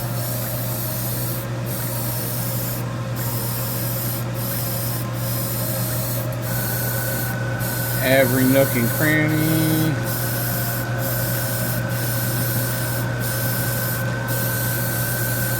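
A spray gun lays paint inside a spray booth, making a loud continuous hiss broken by short regular pauses, over the drone of a running compressor and extraction fan, with a voice speaking briefly partway through.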